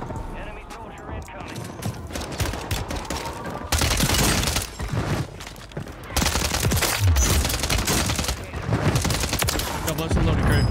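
Dense assault rifle fire in Warzone 3 rattles in sustained loud bursts across the whole stretch, with heavier volleys partway through and a few booming hits mixed in.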